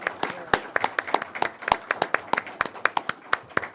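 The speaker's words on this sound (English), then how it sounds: "please give our panels a round of applause for their good conversation" A small audience at a Wilson Center panel event claps for the panelists, producing sparse, distinct hand claps at close range in an irregular, moderately fast rhythm without voices.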